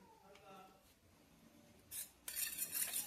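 Eggs for an omelette being mixed with salt in a bowl, with soft scraping followed by a louder burst of quick clinking and whisking near the end, close by and under faint talk.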